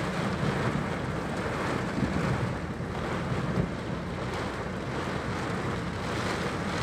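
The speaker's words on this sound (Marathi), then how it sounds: "परंतु पावसाचा आवाज आणि पाऊस आपल्याला या ठिकाणी पाहायला मिळतोय विजा आपण पाहताय प्रचंड विजा आवाज होतोय कडाडतायत चमकतायत" Heavy unseasonal rain in a windy storm in Beed district makes a dense, steady roar that fills the whole stretch, with wind buffeting and no distinct thunderclap standing out.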